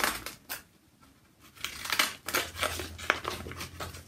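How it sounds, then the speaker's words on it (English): Scissors crunch and snip through T-shirt transfer paper in rough, quick cuts, a close series of crisp crinkling bursts that grows busier toward the end, with no voices. "I'm going to cut it out really sloppily at first, just so I can get rid of the extra paper."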